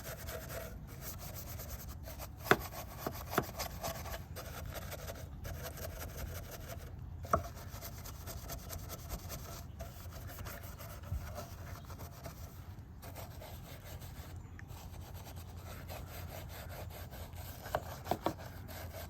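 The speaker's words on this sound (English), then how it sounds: "Now I'm just gonna clean the gas, the fuel fill area" Steady rubbing and scrubbing at the grimy fuel fill area of a 1991 Honda CRX Si, a soft continuous scraping close up with a few small knocks and taps scattered throughout.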